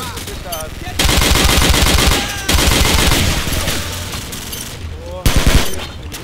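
Loud bursts of automatic machine gun fire in a Call of Duty bomb-defuse match, rapid rattling volleys with short gaps and a sharp final burst, close and dominant.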